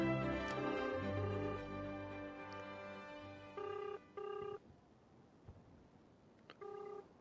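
A telephone rings during a call, faint electronic ring bursts repeating in two short pairs with a pause between, heard after a stretch of quiet background tones.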